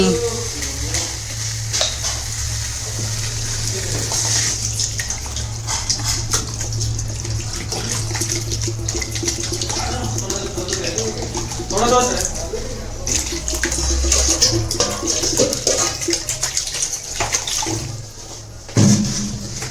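Water poured into a pan of fish and potato curry, a steady splashing, sizzling wash close by that runs through most of the stretch, with a voice talking over it.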